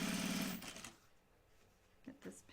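A sewing machine stitching a waxed cotton bag whirs briefly for about half a second and then stops, followed by quiet handling noises and a couple of soft knocks close by.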